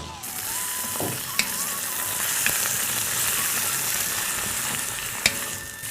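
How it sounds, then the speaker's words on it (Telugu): Mutton frying in oil with onions and dried red chillies in a restaurant kitchen: a loud, steady, close sizzle that runs without a break, with a few sharp clinks of a stirring utensil against the pan. "ఈ మటన్ని బాగా నూనెలో వేపాలరా"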